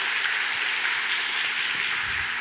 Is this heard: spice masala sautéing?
no